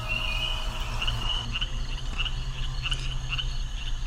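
Chorus of frogs croaking by a river in Loveland, Ohio at evening, a steady dense trilling with crickets and occasional birds chirping, continuous and fairly close, no talk.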